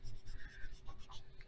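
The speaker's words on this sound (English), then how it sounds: "so I'm kind of using the side of my pencil" Pencil shading on paper, using the side of the lead, makes a soft continuous scratchy rubbing, close up and faint, with a few longer strokes.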